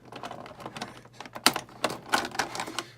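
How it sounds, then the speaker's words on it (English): Scissors snip a Transformers Studio Series 34 Leader Megatron action figure free of its plastic packaging: a close run of crisp, irregular clicks and cuts, some sharper than others, with no talking. "These scissors usually make pretty easy work of cutting out figures pretty easily and neatly"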